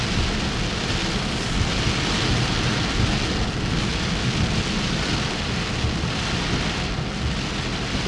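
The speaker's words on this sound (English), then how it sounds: "And here comes the pouring rain again." Pouring rain hammers down during Tropical Storm Debbie near Hudson Beach, Florida, a dense, loud continuous downpour with deep thunder rumbling underneath, heard from inside a car with no voices.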